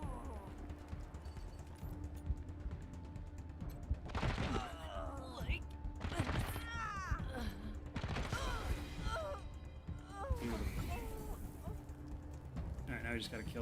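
Gunfire in the video game Wasteland 3, a few sharp, crashing shots standing out over a steady background hum, with talking heard alongside.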